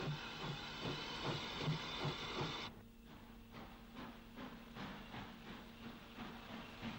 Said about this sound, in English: Waiting for the road at Belturbet with a southbound train of coal empties is another extra lane Dingle engine